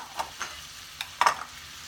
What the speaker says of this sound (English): I'm going to add all of our vegetables to the pot.